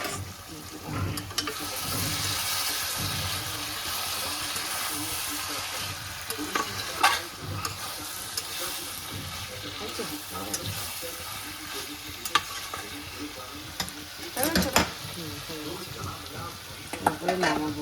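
Mixed vegetables sizzle steadily in a hot pan while a spatula scrapes and stirs in irregular clanks, a continuous loud frying hiss with occasional sharper knocks.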